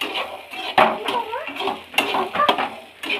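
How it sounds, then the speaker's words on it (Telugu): A spiced masala mixture is stirred and mixed in a pan, with irregular scraping and clinking of a utensil against metal. The knocks come in short uneven bursts, fairly close and alone, with no one talking. "వీటిని బాగా కలపండి."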